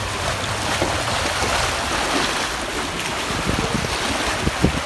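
Waves from the Strait of Malacca wash against a stone breakwater on Bengkalis island beach, a continuous broad rushing surf mixed with wind buffeting the microphone.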